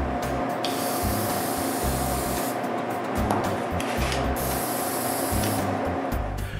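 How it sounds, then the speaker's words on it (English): Steady hiss of a spray gun or aerosol applying a thin coat of lacquer to a wooden rocking chair, continuous and close, with a few brief pauses between passes and a low background hum. "spraying a thin coat of lacquer"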